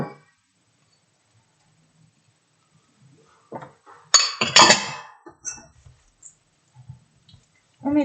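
Spoon scraping and clinking against a bowl while vegetable waffle batter is mixed with cheese, a few close brief clinks and stirring taps separated by quiet pauses.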